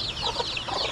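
Around forty chicks on a farm chirp continuously in a dense, overlapping high-pitched chorus, close and steady, with no one speaking.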